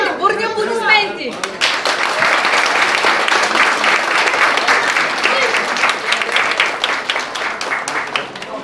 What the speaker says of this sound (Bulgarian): Моля за вашите бурни аплодисменти!